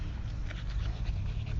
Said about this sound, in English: My dog trying to interrupt my video.